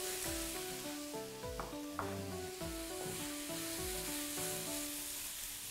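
Soft pork ribs sizzling steadily as they are stir-fried in a hot pan, with occasional scraping stirs, close and fairly quiet, with faint music running underneath.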